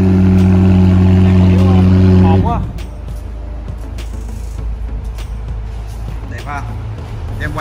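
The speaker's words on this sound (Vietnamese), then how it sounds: "Cho anh em nghe tiếng bô rồi." A Ferrari or McLaren supercar's exhaust holds a loud, droning rev with strong engine tones, then drops to a lower, rougher idle rumble, close by.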